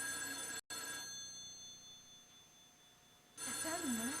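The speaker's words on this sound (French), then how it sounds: "Je sais que ça sonne, Geneviève." A telephone rings in a home, its bell-like tone sitting steady and moderately loud across the first second, then softening into a faint hum before a voice comes in over it near the end.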